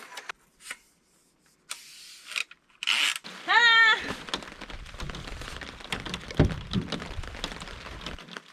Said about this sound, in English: now it's starting to rain again